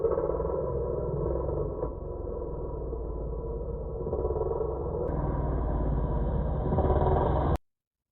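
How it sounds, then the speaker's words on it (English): A dirt bike motorcycle engine drones loudly and continuously, a rough buzzing hum that rises in pitch near the end before cutting off abruptly. "the motorcycle that's making a lot of noise"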